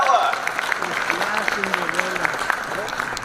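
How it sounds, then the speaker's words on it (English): An audience at the Miss Dinuba 2023 pageant applauds its reigning queen. The clapping is a crisp, steady patter throughout, with a voice talking over it. "one more time, round of applause for our reigning queen"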